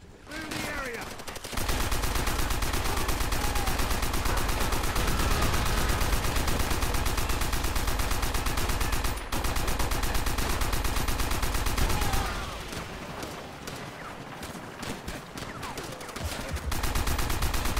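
Sustained machine gun fire rattles almost continuously in a World War II combat scene from the video game Call of Duty: World at War, loud and dense, with brief pauses and faint voices underneath.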